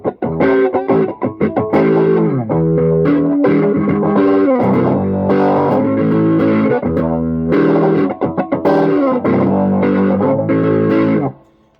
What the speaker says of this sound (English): let's get like a usable tone for, say, like a typical crunch distortion lead